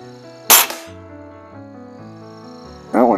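A Webley air rifle fired at maximum power gives one sharp, loud crack, followed by a lingering tonal ring and then another brief burst near the end.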